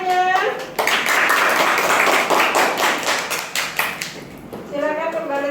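Classroom applause breaks out as a room of students claps together, a loud, dense patter of hands lasting several seconds, with voices heard briefly before and after.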